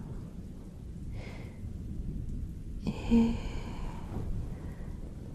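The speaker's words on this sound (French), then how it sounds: "sur le bruit de l'orage dehors" A thunderstorm outside: low, rolling thunder and a steady wash of rain, with a brief soft voice heard once.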